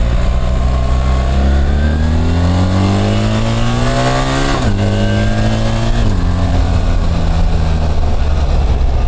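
A BMW adventure motorcycle engine revs hard and close, its pitch climbing steadily, dropping sharply as it blips, then rising again in a continuous loud drone.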